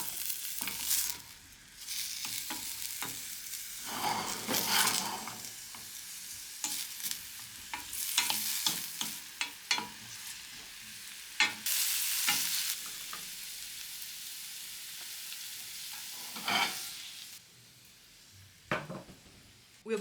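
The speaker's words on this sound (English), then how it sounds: "We'll start by sauteing our shallot and our garlic." Shallot and garlic sautéing in olive oil in a pan, a steady sizzle broken by repeated bursts of stirring and scraping, close up with no talking.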